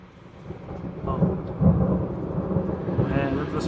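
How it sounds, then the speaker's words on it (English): Low, rolling thunder rumbles in the distance, building gradually and lingering, with a faint background hiss. "there's a thunder roaring over there"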